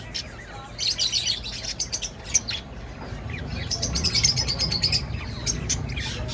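Cockatiels chirp at an exotic bird shop, with bright, rapid tweets in clustered bursts over a low background rumble of the room.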